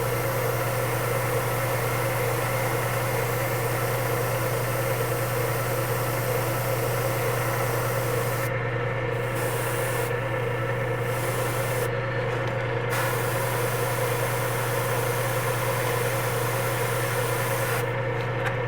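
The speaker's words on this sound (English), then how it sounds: "it's really hard to spray on camera" An airbrush sprays paint for Spiderman eyes, a steady hissing spray over a constant hum from the compressor, with a few brief breaks where the hiss stops.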